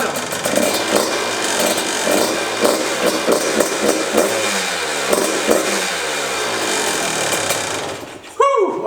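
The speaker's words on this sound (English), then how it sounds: "This bike runs, sounds amazing, holds the idle, everything is good." A Yamaha YZ125 two-stroke dirt bike engine runs close by with a loud, crisp, buzzing idle punctuated by rhythmic throttle blips, then cuts off abruptly near the end into a brief burst of other noise.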